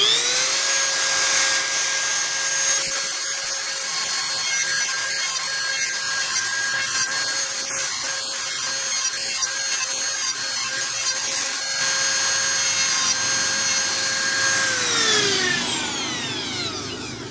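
A Dremel rotary tool carves and freehand-shapes a briar pipe bowl with the stem removed, its loud steady high whine running for most of the stretch as the bit grinds the wood, then winding down at the end.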